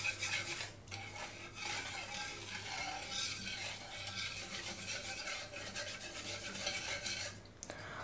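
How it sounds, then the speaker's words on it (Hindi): A spoon stirs sooji pudding batter in a pan, a steady soft scraping and swishing that runs continuously at low volume with faint background hum. "इसको अच्छे से मिक्स कर लेंगे।"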